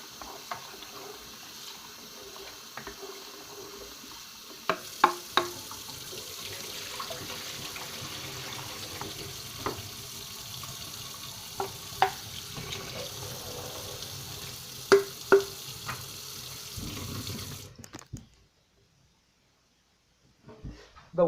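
Tap water runs steadily into a sink while rice is rinsed of starch, with clinks and knocks from handling scattered through the flow until the tap shuts off near the end.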